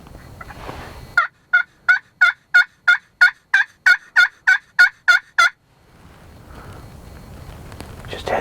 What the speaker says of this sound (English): We've already got turkeys moving down and they're strutting.